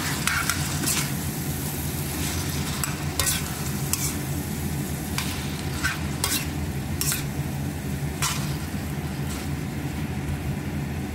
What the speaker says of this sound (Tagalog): Add natin yung chicken. Ayan, halo-halo lang natin.